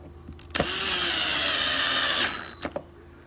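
Power drill driving in the screws that hold a Jeep TJ console speaker, one steady whirring run of about two seconds between sharp clicks and knocks, close and moderately quiet.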